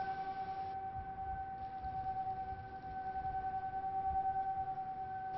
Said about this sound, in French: d'entendre les sirènes, 3 sons continus, identiques